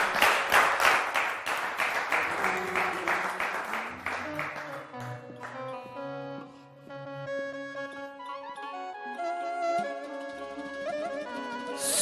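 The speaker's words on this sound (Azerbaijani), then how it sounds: "Başdan alqışlar gəlir." A studio audience claps in rhythm during a televised music show, loud at first alongside the band, then fading as the instrumental music and singing take over.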